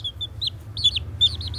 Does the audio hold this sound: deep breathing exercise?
no